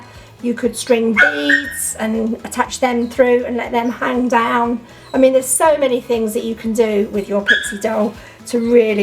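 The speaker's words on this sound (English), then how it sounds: "I'm so sorry about my doggies barking." Several pet dogs bark and yip repeatedly in the background while someone talks steadily over them indoors, the barks partly buried under her voice.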